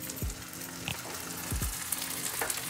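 Green peas tossed into a pan of garlic and ginger frying in oil for pulao, giving a soft steady sizzle with a few low thuds and scrapes as they land and shift.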